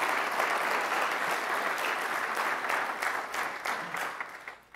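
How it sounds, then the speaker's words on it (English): A conference audience applauds its sponsors with steady, dense clapping that stays even for several seconds, then tapers off at the end, with no voices over it. "Please, a round of applause for all of our sponsors."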